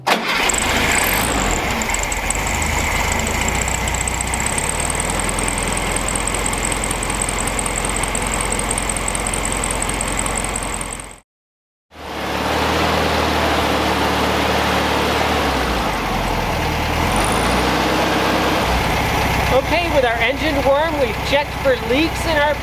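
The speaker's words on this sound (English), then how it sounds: "we'll start the car and go ahead and get it warm." Classic VW Beetle engine started after a fuel pump replacement, cranking and catching into a steady, loud air-cooled idle that runs continuously, broken by a brief gap, with a faint high whine above the engine note.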